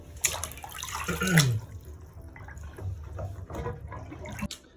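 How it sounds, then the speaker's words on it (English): Water gurgles and drains from a basin after hand-washing clothing, with a burst of splashing early on, then a quieter trickle and a faint knock at the end. "after 30 minutes, you're going to drain the water"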